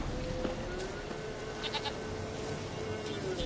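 A goat bleats in The Witcher 3 game world, a few short faint bleats over a steady ambient background, no speech.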